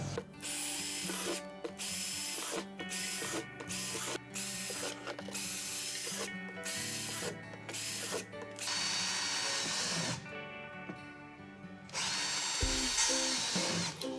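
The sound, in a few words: power drill drilling holes in worm farm container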